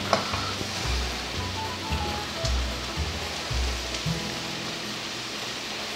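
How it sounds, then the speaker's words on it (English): Butter sizzling and crackling in a hot pan for a stir fry, a steady close hiss with a low hum underneath and no talking. "we're going to add in 2 tablespoons of butter or margarine or olive oil"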